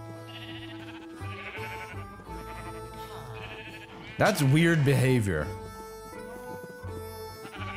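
Sheep bleating in the video game Minecraft, a loud wavering bleat in the middle over background game music, with someone talking throughout.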